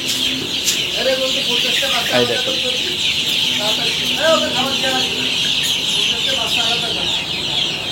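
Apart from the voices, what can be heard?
Fayoumi chickens clucking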